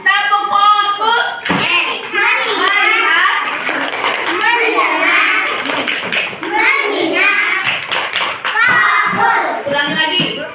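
Schoolchildren in a classroom perform the rhythmic 'tepuk fokus' clap routine during a math lesson, chanting together with patterned bursts of hand claps in between their voices.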